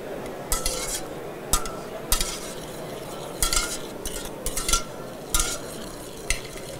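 Meat tossed and stirred through sauce in a pan, with a low sizzle beneath and several sharp clinks and scrapes of a utensil against the metal, close up, with no talk.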